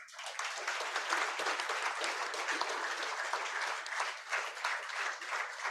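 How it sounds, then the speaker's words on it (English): A large audience at an anniversary celebration claps steadily throughout, a dense, even applause with no pause or voices over it. "please give a clap for all of them"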